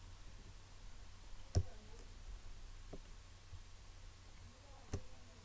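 A computer mouse gives a few sharp, faint clicks, spaced irregularly over a quiet background hiss, during design work in Adobe Illustrator.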